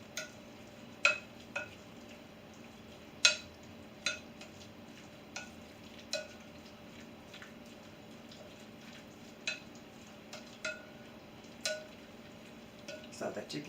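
Chicken gets stirred through sauce in a bowl, giving soft scattered taps and clinks of a utensil against the bowl at irregular intervals, faint and close over a quiet background hum.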